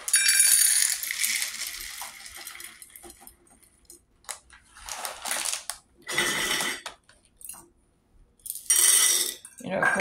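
Dried black beans poured into a glass jar: several separate rattling, pattering pours, each a few seconds long with quiet gaps between, as someone talks nearby.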